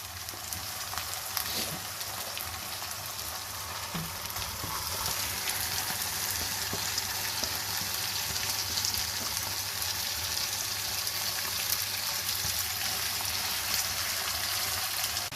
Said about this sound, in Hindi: तो इसको फ्राई करते हैं और साथ ही जो मैरिनेटेड चिकन है ये भी साथ ही मैं डाल देने लगी हूँ।